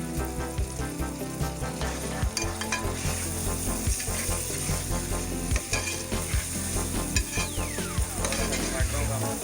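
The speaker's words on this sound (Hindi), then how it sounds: "टमाटरों का हम फ्राई करेंगे।" Tomatoes sizzle and fry in a hot pan with green chillies nearby, a steady loud crackle broken by repeated scrapes and knocks as the mixture is stirred, close and continuous with no talking.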